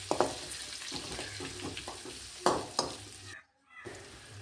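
Chopped onion sizzles in a hot pan for tomato bath while a spoon scrapes and knocks through it in repeated strokes, close and clear, with a brief near-silent gap toward the end and no talk.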